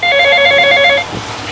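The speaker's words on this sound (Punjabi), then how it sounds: "ਮੰਮੀ ਦਾ ਫੋਨ ਵੱਜਣ ਦਿਆ" A phone rings loudly with a quick trilling electronic tone for about a second, then stops, leaving only faint background noise.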